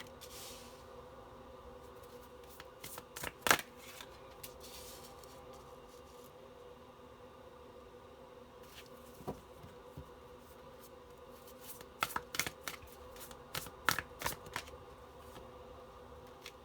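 Tarot cards being laid out and shuffled during a reading, with soft scattered riffles and flicks, a few louder bursts around the middle and near the end over a quiet steady background hum; no talking.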